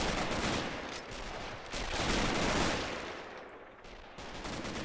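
German mortar firing in a World War battle game, a dense, loud wash of booms and gunfire rolling on without a break, with distant explosions blending into a steady roar.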